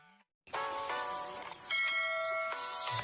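Bright, sustained bell tones ring out after a brief silence, with a second strike layering on top and shimmering overtones.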